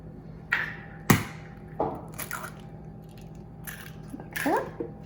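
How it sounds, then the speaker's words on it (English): Two eggs cracked into a bowl for banana bread, with a few sharp close cracks and a wet splatting of the eggs dropping in, brief bursts over a quiet kitchen background. "2 eggs, crack right in."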